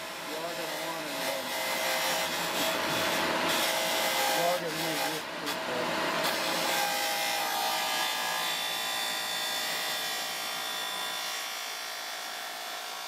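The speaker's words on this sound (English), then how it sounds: "I was able to sand off a good quarter of the piece" Rikon 50-112 belt/disc sander grinding down a wooden piece, a steady loud motor whine with abrasive rasping held throughout, with a person talking over the noise early on.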